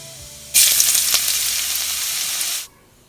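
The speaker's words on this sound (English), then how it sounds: "Saute the ginger and garlic for about 30 to 40 seconds." Finely chopped ginger and garlic drop into hot oil for a lentil curry and set off a sudden, loud sizzle. The hiss holds bright and steady for about two seconds with a faint stir, then cuts off sharply, with no talking.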